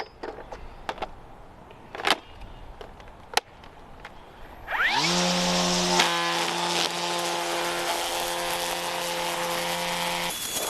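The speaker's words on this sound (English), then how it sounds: "I'm going to edge this sidewalk" A Toro 60V Flex Force battery string trimmer edges along a sidewalk. A few sharp clicks come first, then the motor spins up into a loud, steady, close whine with a buzzing tone that holds to the end.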